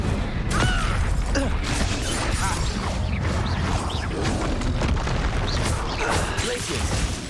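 In Hogwarts Legacy video game combat, the Incendio fire spell is cast amid dense, loud whooshing, booming and mechanical effects that run throughout, while a voice shouts over the action.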